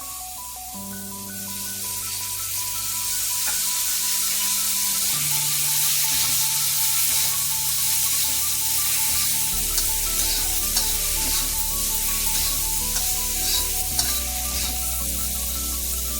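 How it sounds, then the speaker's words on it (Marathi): Green chillies frying in extra oil for a chili paste, a strong steady hissing sizzle that builds and holds with occasional stirring, accompanied by a low tonal hum and no speech. "आता मी तेल टाकते. परत तेल थोडं जादा टाकायचं."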